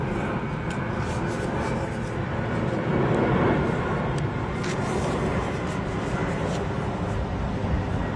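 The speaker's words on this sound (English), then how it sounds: "I'll just wait for the Heathrow-bound aeroplane to" A Heathrow-bound aeroplane passes overhead near the River Thames, a steady low roar blended with breezy wind buffeting an outdoor recording.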